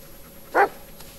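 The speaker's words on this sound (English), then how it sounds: "What are you barking at?" A single short dog bark sounds in the Blair Witch video game, one brief moderate yelp against a steady low ambient hiss.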